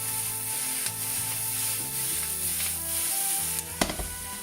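A bacon and sausage mix stirred in a pan for breakfast burritos, giving a steady sizzle with soft stirring scrapes and one sharp clank near the end.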